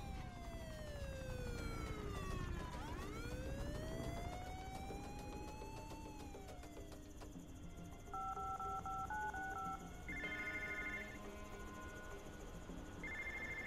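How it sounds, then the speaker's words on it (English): In the video game Infamous: First Light, a phone rings with an electronic ringtone: steady beeping tones and short repeated chirps sound over a wailing siren sweep and loud, continuous city action noise. "I'm getting a phone call."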